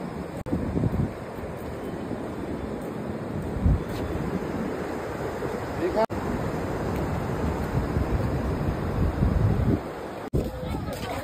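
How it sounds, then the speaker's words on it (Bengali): Sea surf washes steadily onto the beach at Digha, a continuous broadband roar with wind buffeting the microphone, filling the whole stretch without clear breaks. "সামনে সমুদ্র, সমুদ্রের পার বরাবর হাঁটবো"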